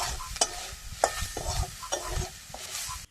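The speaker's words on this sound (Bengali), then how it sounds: "তেলটা একটু নাড়াচাড়া করে ভেজে নিলাম" Grated coconut frying in oil with dried red chilli and whole cumin for a masoor dal, a soft sizzle under repeated sharp scrapes of a spoon stirring the pan, close by with no talk.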